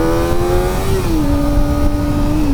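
A 2024 Kawasaki Ninja ZX-4RR motorcycle's high-revving engine holds a loud, steady whine that dips and shifts pitch as it changes gear while riding, with wind noise and no talking.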